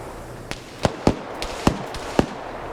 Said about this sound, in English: Oh god, 50 cal gunner's now firing.